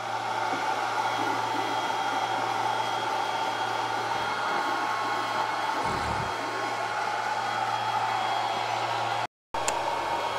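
A Longer B1 40W laser engraver runs a speed test at 30,000 mm per minute and 90% power, giving a steady, even whirring hum throughout that breaks off briefly near the end.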